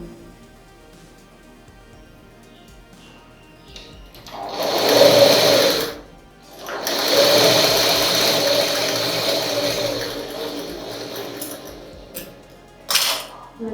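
A sewing machine joins fabric pieces in two bursts of fast, even stitching, a short run then a longer one, separated by a pause and framed by near silence.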